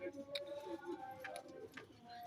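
A Firozpuri pigeon gives soft, low repeated coos up close, with faint background chatter and other bird sounds.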